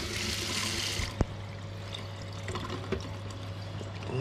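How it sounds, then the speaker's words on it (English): Cool tap water pours into a kitchen sink over a freshly cooked crayfish, a steady rushing stream for about a second before cutting off, leaving faint drips and small clunks nearby. "Just run a bit of cool water over it so I can touch it."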